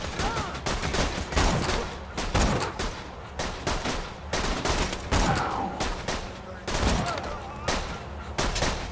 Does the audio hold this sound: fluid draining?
no